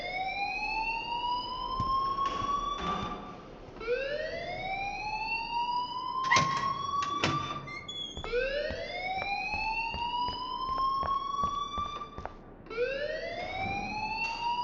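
School alarm ringing in the video game Life Is Strange: a loud rising-and-falling siren wail that repeats in sweeps about every three seconds, steady throughout with no talking.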